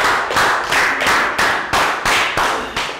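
A Year 3 English class claps together in unison, about eight sharp, evenly spaced group claps in a quick steady rhythm, close and loud in a classroom.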